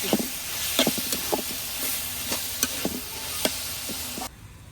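A spatula stirs chili-spiced masala frying in a pan, producing a steady close sizzle broken by repeated scraping clicks and knocks until the hiss drops away near the end.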